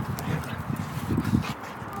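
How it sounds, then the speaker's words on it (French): A pet dog barks repeatedly in short, uneven bursts to invite its owner to play, fairly close and moderately loud, with a few soft whimper-like notes between barks and no talk over it. "depuis tout à l'heure, vous l'entendiez aboyer, donc ça c'était des appels au jeu"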